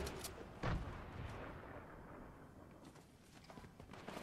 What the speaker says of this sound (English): I hear their gunshots though.